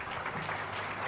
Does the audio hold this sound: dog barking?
no